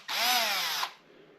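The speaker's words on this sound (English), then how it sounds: "Got myself a mixer for paint for my drill" Electric drill fitted with a PLA-printed paint mixer attachment whirs in one steady, close burst of about three quarters of a second, then stops abruptly, with no talk.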